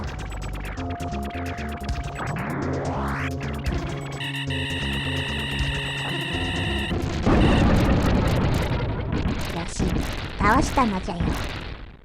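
A boss explodes in the Super Famicom shooter Axelay, a loud dense burst of crackling blasts over a sweeping tone and music, followed by shorter pops, with a voice speaking partway through.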